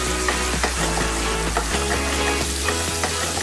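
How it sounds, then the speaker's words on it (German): Duck skin sears in a coated pan with no fat, giving a loud, close, continuous sizzle and crackle with occasional sharper pops, alone without talk. "Die Entenhaut wird ohne Fett in einer beschichteten Pfanne scharf angebraten."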